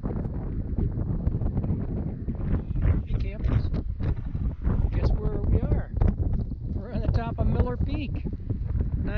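Steady wind buffets the microphone on the Arizona Trail on a sunny mid-April morning, a constant broadband rush with gusting rumble, while a person talks over it throughout.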